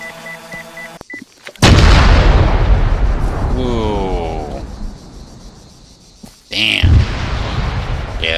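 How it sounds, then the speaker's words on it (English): A huge explosion in a video game, set off by a proximity drone, hits with a loud boom and a long rumbling tail, followed by a second blast a few seconds later, with game beeps and tones around it. "That's a huge explosion."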